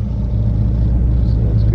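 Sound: 1967 Oldsmobile Cutlass engine cold start

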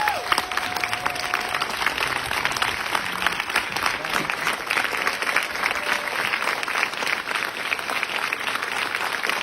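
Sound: audience ovation at film festival

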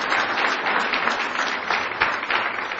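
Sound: audience applause

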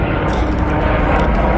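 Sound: helicopters flying near Kedarnath

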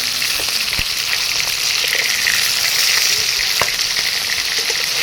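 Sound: fish (siting fish) frying in oil in a pan

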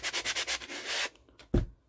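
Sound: sanding a box lid by hand

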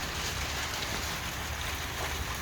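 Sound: heavy rain

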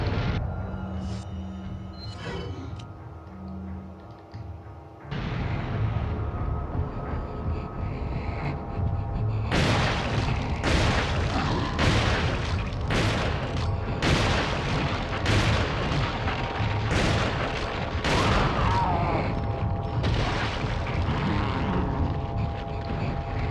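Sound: grenade explosion in video game Resident Evil 4

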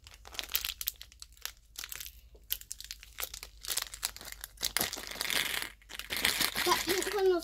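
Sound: tearing open Kinder Joy surprise egg wrapper

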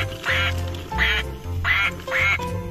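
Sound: duck quacking

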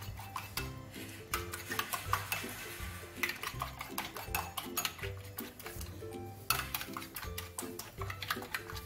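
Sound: stirring seasoning into ingredients in a pan

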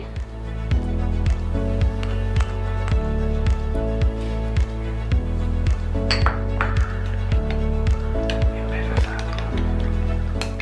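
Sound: spoon mixing a honey and lemon mixture in a glass

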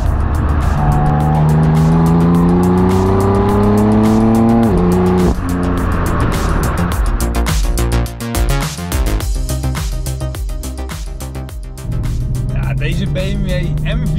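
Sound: BMW M4 Competition AC Schnitzer car driving and accelerating

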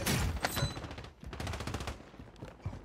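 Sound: gunshots in Call of Duty: MW3 Warzone video game

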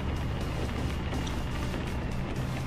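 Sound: Renault Truck E-Tech T engine in Euro Truck Simulator 2 video game

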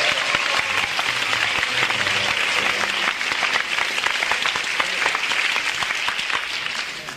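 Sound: audience applause for Bonnie Beverly

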